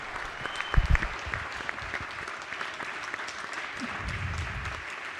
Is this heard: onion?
no